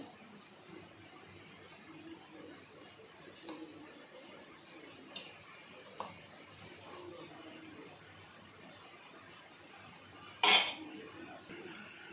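Food is mixed with salt in a bowl, with soft, continuous scraping and faint utensil clinks against the dish, then one sharper clink near the end.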